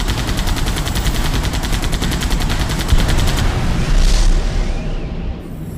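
Rapid video game machine-gun fire rattles loudly for several seconds, then a booming explosion rolls out and fades, with no voices over the weapon effects.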